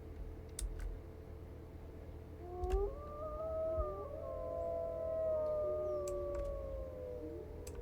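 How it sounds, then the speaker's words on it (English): In the video game WolfQuest, a wolf howls in long, wavering, overlapping tones that rise and fall over a steady hum, while computer keys click now and then. "I think I'll try howling and see who shows up."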